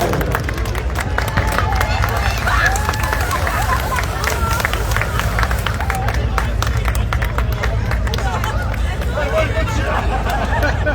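A crowd at a car rally podium ceremony in Dieppe, Normandy, applauds steadily for a classic-car crew, dense clapping mixed with crowd babble throughout.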